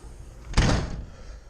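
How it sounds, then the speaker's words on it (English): A door swings open with a short, loud thud and rush of noise lasting under half a second, heard close against quiet background hum; no one speaks. "I'm opening the door"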